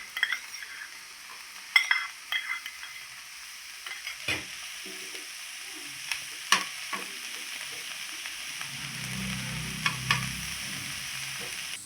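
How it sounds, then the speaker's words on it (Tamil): Shallots and garlic frying in a pan for Pallipalayam country chicken, a soft steady sizzle with intermittent scraping stirs and light clinks of the utensil, close and fairly quiet, no talking. "வெங்காயம் பூண்டு நல்லா இந்த மாதிரி வதங்கி வந்த உடனே"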